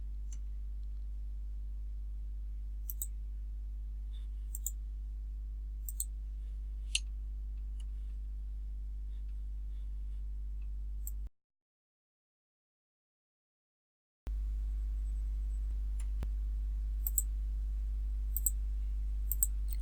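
Computer mouse clicks sound while working through an on-screen building-site take-off in Kubla Cubed 2019 software, sharp scattered single and double clicks over a low steady hum, with a short silent gap in the middle.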